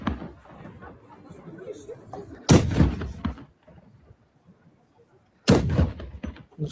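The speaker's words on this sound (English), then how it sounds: "The cannon sounding going on." Two loud, sharp booms from milk can cannons, fired to drive away winter spirits and welcome spring, strike about three seconds apart, each ringing out briefly over a background of crowd chatter.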